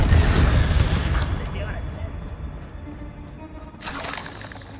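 A Confringo fire spell bursts in Hogwarts Legacy with a loud, rumbling blast that decays over a second or two, then a second softer whoosh follows near the end.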